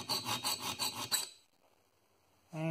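A file rasps across the teeth of a Disston backsaw during sharpening, with about seven quick rhythmic strokes that then stop, followed by near silence and a soft thump at the end.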